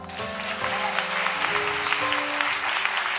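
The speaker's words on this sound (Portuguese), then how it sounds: "Vamos aplaudir Jesus por ele?" A church congregation applauds in a dense, steady wash of clapping, loud and close, with faint sustained music tones underneath throughout.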